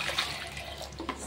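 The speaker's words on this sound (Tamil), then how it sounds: "1/2 கப்பு தண்ணி, மெஷர்மெண்ட் கப்பால் 1/2 கப்பு தண்ணி இதில் நம்ம சேர்த்துடுறோம்." Half a cup of water is poured into a Chicken Manchurian sauce in a home kitchen, a short splashing gush near the microphone that settles quickly.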